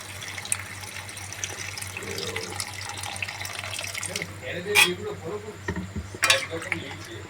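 Water poured into a pan of chana masala on the stove, a steady running splash with a clatter or two of utensils, under a low background hum.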